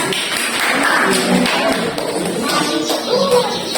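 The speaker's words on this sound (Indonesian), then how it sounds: "Aplaus untuk perempuan ya." A classroom group claps and taps in a short, dense burst of applause, mid-loud and close, with faint voices mixed in.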